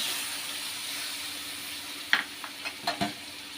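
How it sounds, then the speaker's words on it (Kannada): Tomatoes frying in a pan with ginger garlic paste, a steady close sizzle with a few short stirring scrapes near the end. "ಟೊಮೊಟೊನು ಚೆನ್ನಾಗಿ ಫ್ರೈ ಆಗಬೇಕು"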